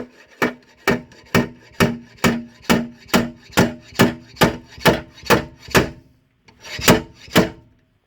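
Slide hammer dent puller tugging repeatedly on a nail welded to dented sheet metal, about a dozen sharp rhythmic impacts in quick succession, a brief pause, then two more knocks, loud and close with no talk.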